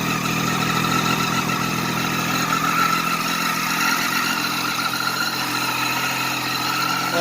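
A Triumph Daytona 675 motorcycle idles with an exhaust leak, a steady, close engine rumble that holds evenly for about seven seconds with no talking.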